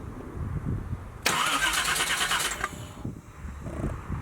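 A car engine with a newly installed roller cam cranks and then catches, a loud burst of starting roar about a second in that settles after a couple of seconds into a lower idle rumble.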